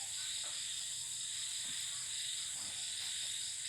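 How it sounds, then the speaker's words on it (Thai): A constant high-pitched chorus of crickets trilling steadily in the evening, with faint low croaks scattered underneath. "เสียง จิ้งหรีดเนี่ย ก็ร้องนะธรรมชาติบ้านผม"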